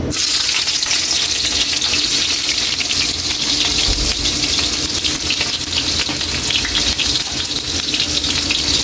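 Chopped ginger sizzles steadily in hot cooking oil in a pan, a loud, dense, continuous frying hiss with no talk.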